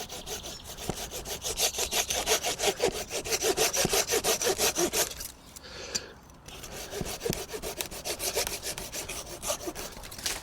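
A camping multitool's saw blade cuts through wood in steady back-and-forth strokes, loud and close, with a brief pause midway before the rhythmic rasping resumes.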